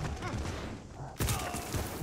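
Burst of gunfire in Call of Duty Vanguard, a sudden loud volley cutting in over a busy low rumble of battle noise, with a voice faintly present.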